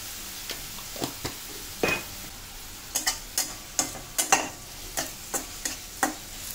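Chopped onion with salt and cumin frying in a pan, a low sizzle running under a series of sharp spoon taps and scrapes that come irregularly, denser in the second half; no one talks.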